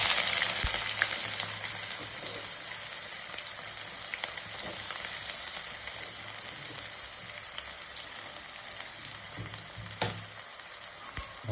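Sliced onions sizzle in hot oil with fried cinnamon and cloves for a mutton gravy, a loud, continuous close-up crackle with occasional stirring scrapes and no voices.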